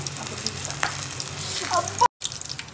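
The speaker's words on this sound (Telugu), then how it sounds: "ఆయిల్ వేడెక్కింది. ఇప్పుడు ఇందులో వేసేస్తాం." Homemade chili cut bajji (mirapakaya) fry in hot oil with a close, continuous sizzle and bubbling crackle, broken by a brief moment of silence near the end.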